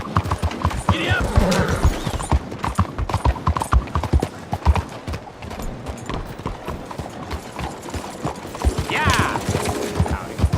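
A horse gallops in Red Dead Redemption 2, its hooves clip-clopping in a steady, loud rhythm throughout, with a whinny near the start and someone shouting over the hoofbeats.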